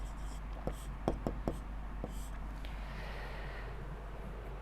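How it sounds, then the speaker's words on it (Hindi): A pen scratches out a math solution in short, quick strokes and taps near the start, then fades into quiet room noise with faint breathing. "तो देखिए सबसे पहले हम लिखेंगे हल में"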